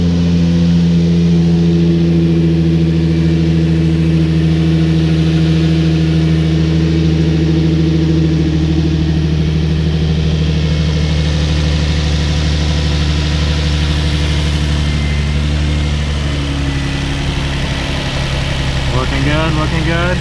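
An Infiniti G35 engine idles steadily while warming up during a radiator coolant flush. The low, even hum stays close and constant throughout.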